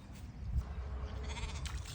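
Young goat kid bleating in a muddy village farm setting, a few faint, wavering calls over soft background rustle and low rumble.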